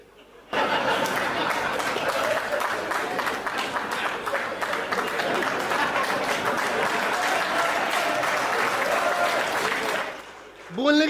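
An audience at a comedy show applauds in a dense, sustained burst of clapping lasting about ten seconds, with scattered chuckles mixed in, before a voice comes in at the very end.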